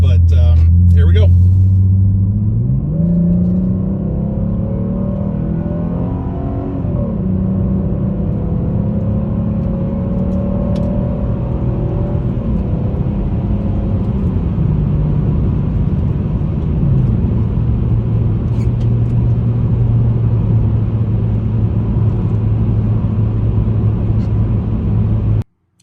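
A 2019 Chevrolet Impala with glass pack exhaust revs up and then settles into a low, steady drone heard from inside the car. Its pitch rises and falls before holding a constant hum.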